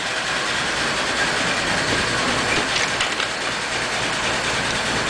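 A 1941 Pontiac engine with a sticking valve and a worn choke idles low and steady, a dense continuous rumble and hiss that stays even throughout with no talking.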